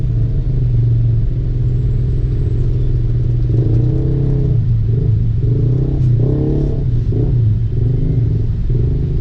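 Dense road traffic in Bandung rumbles close by, with car engines droning and swelling as vehicles pass and rev, a loud continuous roar with some clatter and no talk.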